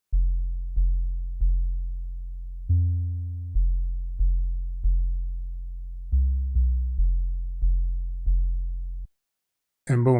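Synthesized 808 bass tones built in Cakewalk by Bandlab, a dozen deep booming notes in a steady pattern, each decaying, with a couple of pitch changes, then silence and a short burst at the end.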